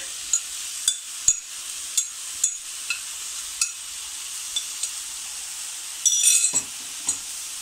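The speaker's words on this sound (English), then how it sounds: "When the onion becomes translucent, now add the coconut mixture" A coconut mixture with sautéed translucent onion is stirred in a pan, giving soft sizzling and a series of light, evenly spaced scrapes and clinks of the utensil against the pan.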